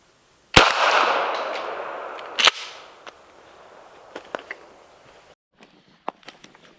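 One loud, sharp gunshot from a wildlife control ammunition test at a target 20 yards away, followed by a long fading echo, then a second sharp crack and scattered small clicks and handling noises.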